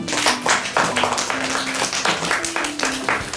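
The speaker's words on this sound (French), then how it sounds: "Applaudissez pour Indira." A school class bursts into steady clapping for a pupil, a dense run of hand claps lasting several seconds, with a voice heard briefly amid the applause.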